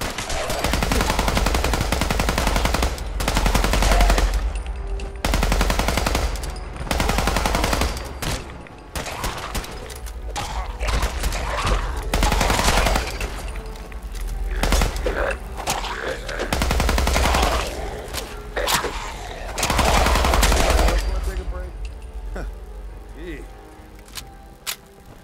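Rapid, sustained gunfire in Fallout 4 during a fight, dense bursts of shots rattling almost continuously with short pauses, loud and close, while a player talks over it.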